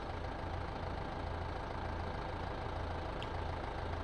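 A tractor engine idles in Farming Simulator 15, a steady low mechanical drone that stays even and fairly quiet throughout, with no talking.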